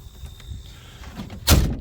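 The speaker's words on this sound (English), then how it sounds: "closing the door" A motorhome door slides and shuts, closing with a single sharp, loud thud near the end after some low rattling and movement noise.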